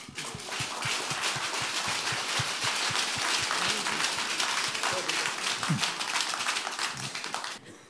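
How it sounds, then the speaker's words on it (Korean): Audience applause at a Seoul political talk show welcoming a news anchor onto the stage, dense steady clapping filling the hall throughout, with a brief voice near the end. "이익선 앵커 박수로 환영합니다."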